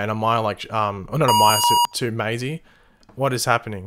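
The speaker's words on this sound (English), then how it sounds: "sorry about that beeping." Over a person's lively talking, a brief burst of rapid high-pitched electronic beeps sounds, then the talk continues.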